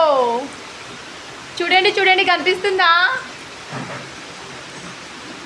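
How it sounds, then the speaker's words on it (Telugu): Heavy rain pours down in a steady, dense hiss that fills the whole scene, while a person talks excitedly over it for a few seconds. "వామ్మో ఎంత వర్షం చూడండి ఫ్రెండ్స్."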